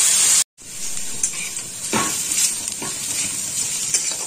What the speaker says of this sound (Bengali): তো পেঁয়াজটা একদম লাল করে ভেজে দেবো।